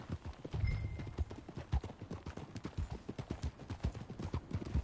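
Horse hooves in the Red Dead Redemption 2 video game beat out a steady, loud clip-clop at a brisk riding pace for the whole stretch, with no voices over them.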